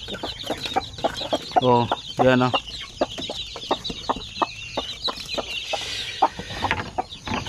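Native hens and chicks clucking and peeping steadily close by, with brief louder hen calls early on, while someone speaks quietly over them.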